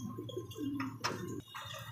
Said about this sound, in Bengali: এটা হচ্ছে জার্মানি মডার্না কবুতর